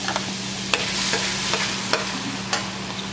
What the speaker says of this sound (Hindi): अब इसमें ये लहसुन अदरक का पेस्ट डालेंगे